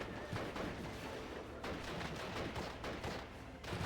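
Machine gun fire in the war strategy game Steel Division, rapid overlapping crackles of distant gunfire forming a steady, faint battle din without pauses.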